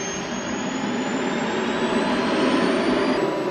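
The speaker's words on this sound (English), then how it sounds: "The engine noise is so loud, it's the only way they can hear each other." A steady, loud engine roar with a high whine layered on top, constant throughout with no voices.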